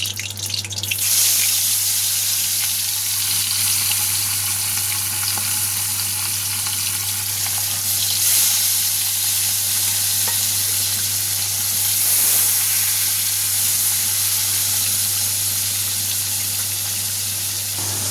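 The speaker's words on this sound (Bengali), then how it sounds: "এদিকে কড়াইতে আমি তেল দিয়ে দিয়েছি, তেলটাও গরম হয়ে গেছে। এবার আমি একে একে মাছগুলো সব দিয়ে দেবো।" Hilsa fish sizzle in hot oil in a wok, a loud, constant close frying hiss that runs unbroken throughout with a low steady hum beneath and no talk.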